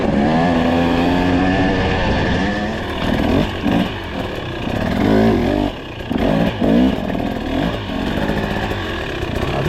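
A 2023 KTM 300XC two-stroke dirt bike works through rocky hard-enduro ground, its engine loud and close, revving and bogging in uneven bursts with clatter from the terrain.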